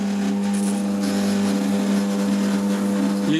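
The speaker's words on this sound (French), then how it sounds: "On voit que le Monsieur Cuisine a du mal, il s'arrête." A Monsieur Cuisine Connect food processor motor strains while kneading brioche dough, giving a loud, steady, close-up mechanical whine with a strong low hum that shifts slightly near the end, with no talking.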